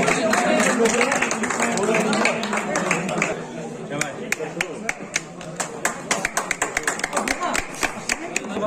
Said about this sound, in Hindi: जोरदार तालियां नफीस करते हैं